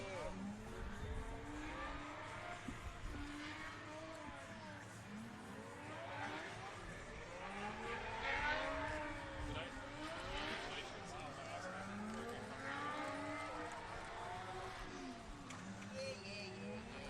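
A Juku Racing S chassis drift car revs and swerves in a pro drift championship in Texas, warming its tires with repeated rising and falling engine wails. It sounds distant, under a continuous commentator's voice and crowd ambience.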